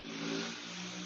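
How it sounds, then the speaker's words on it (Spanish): A motorcycle engine drones loud and steady close by for the whole second, swelling slightly early on, then holding a strong, even roar as it passes. "pasó una moto"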